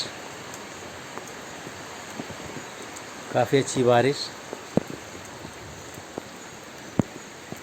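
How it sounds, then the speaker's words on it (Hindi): Steady rain patters all around with scattered louder drips, and a person speaks briefly in the middle. "फिर से बहुत दिन बाद आज बारिश"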